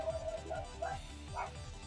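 A dog barks and yips repeatedly in the background, fairly faint and steady under a low hum of gameplay sound.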